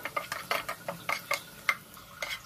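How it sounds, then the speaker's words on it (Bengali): Raisins are fried in a pan and stirred briskly, producing a quick run of light scrapes and clicks from the spoon over a faint sizzle. "আমি এখন কিশমিশগুলোও দিয়ে ভালোভাবে ভেজে নিচ্ছি"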